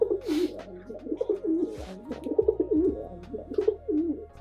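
A pet pigeon or dove perched close by gives repeated soft, throaty coos in a steady rhythm, loud and near, with no talking over it.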